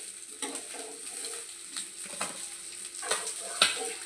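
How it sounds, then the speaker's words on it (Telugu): Fish pieces shallow-frying in a small amount of oil give a quiet, steady sizzle with scattered crackles and a few light scraping or stirring sounds, heard close. "ఇలా ఫ్రై చేసుకొని చూడండి ఈసారి. చాలా తక్కువ నూనెతో ఫిష్ ఫ్రై."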